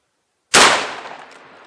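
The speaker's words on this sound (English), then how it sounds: "Here goes the buckshot" A single loud shotgun blast fires buckshot into a clay block, a sharp close report followed by a roughly one-second decaying echo, with no voices.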